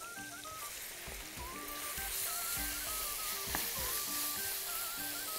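Pieces of chicken seasoned with black pepper sautéing in butter in a pan, a steady broadband sizzle with light scraping and clinks from stirring, faint music in the background.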